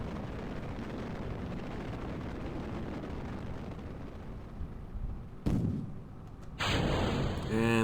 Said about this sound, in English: And they're going to explode right below the rocket.